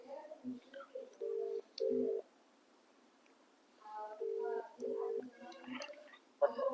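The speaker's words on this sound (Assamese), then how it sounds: "ফোনটো লাগিছে বাৰু।" A phone line rings with repeated paired electronic tones separated by pauses, fairly quiet and alone.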